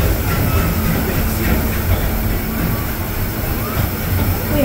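Disneyland Railroad steam train E.P. Ripley rolling into New Orleans Square Station, a steady loud low rumble of wheels and rail noise filling the whole stretch without pause.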